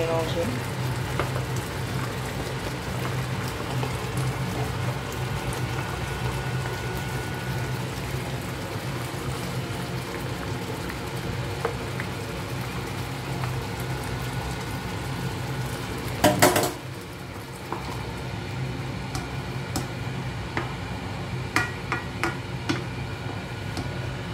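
Food is stirred in a pan on lowered heat with a pork dish, a steady low sizzle under occasional utensil scrapes and one sharper clatter partway through, close and continuous.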